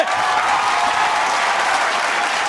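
A studio audience at a Kannada TV comedy show applauds loudly, a dense, continuous wash of clapping that stays at an even level for the whole stretch.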